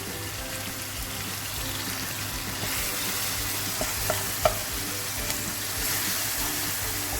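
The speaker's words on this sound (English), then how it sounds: "Just stir everything" Lincolnshire sausage and a teaspoon of tomato puree are stirred in a frying pan, giving a soft continuous sizzle with a few brief clacks of a spoon against the pan and no voices.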